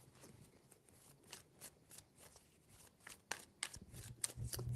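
Tarot cards shuffled by hand, a series of soft papery riffles and slaps close up, growing louder toward the end.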